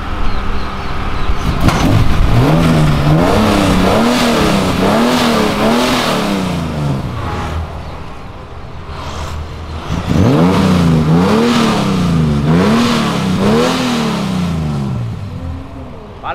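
Cars on Avenida Europa rev hard and downshift close by, in two loud rising-and-falling engine sequences separated by a brief dip.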